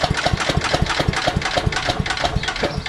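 Briggs & Stratton 10 HP engine on an MTD Yard Machines wood chipper shredder running after a carburetor cleaning, a close, steady rapid chugging idle with even repeating beats.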